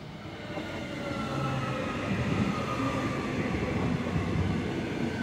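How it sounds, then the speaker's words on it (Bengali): A metro train rolls into Shobhabazar station, a steady rising rumble and rushing gust of wind filling the platform, loud and continuous with no talk. "একটা তীব্র হাওয়ার ঝাপটের সাথে শেষ মেট্রোটা শোভাবাজার এসে ঢুকল।"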